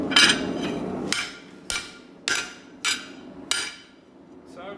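A hammer strikes a dull chisel cutting a line into metal, six sharp ringing blows in a steady rhythm, close and loud with short decays between hits.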